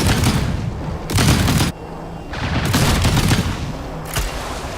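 Cannon fire in a video game, heavy booming blasts with long rumbling tails, one after another in dense overlapping volleys, loud and close.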